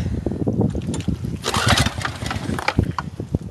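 A small go-kart engine cranks and sputters through a cold start in the snow, a run of uneven pops and coughs that briefly catches into a rough, close, sputtering run.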